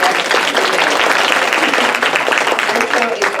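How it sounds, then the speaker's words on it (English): Steady applause from a summit audience, many hands clapping continuously for a few seconds. "And Carlos, I'm going to give you a round of applause."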